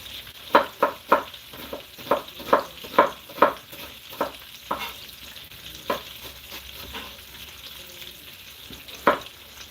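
Bacon and sausage fry in a pan, giving a continuous close sizzle with a steady series of sharp, rhythmic utensil taps and scrapes about every half second that thin out toward the end.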